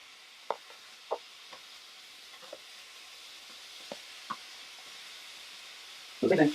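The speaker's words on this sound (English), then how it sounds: "I'll kind of just stir, make sure that everything's getting done evenly." Food frying in a pan during meal prep, a steady soft sizzle with a few light scrapes and knocks from stirring, ending in a louder burst of stirring at the close; no speech.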